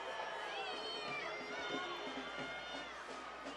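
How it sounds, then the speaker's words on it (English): Soccer supporters' section, the Tower Bridge Battalion, booing an offside call during a Sacramento Republic FC vs LA Galaxy II match, a sustained wavering mass of voices from the stands with steady stadium crowd noise underneath. "The booers come out of the Tower Bridge Battalion"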